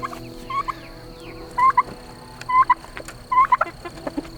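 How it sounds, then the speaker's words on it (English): Poultry calling around a coop at evening as chickens head in to roost, with repeated short clucking and gobble-like calls in bursts every second or so, fairly close, over a low steady background hum. "this is the time of day that the chickens start going in for the evening"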